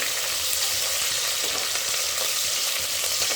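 Onion pieces, cut fairly large, fry steadily in a pan for soya biryani, giving a dense, continuous sizzle with faint stirring scrapes, close and fairly loud throughout.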